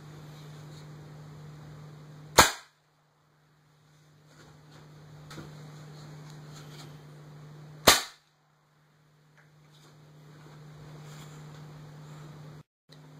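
An airgun firing plated BBs gives two sharp, loud cracks several seconds apart over a low steady hum, with near silence after each shot.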